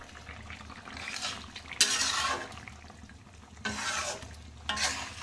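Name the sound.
meat curry being stirred and cooked in a pan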